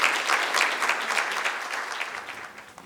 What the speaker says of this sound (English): So I just want us all to just give Larry a round of applause for these wonderful pictures